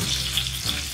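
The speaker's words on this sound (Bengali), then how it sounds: "এই তেলেই আমরা ফোড়নটা 30 সেকেন্ডের মতো ফ্রাই করে নেব" Whole spices for a tempering fry in oil left from frying parshe fish, a short, even, close sizzle with no voices.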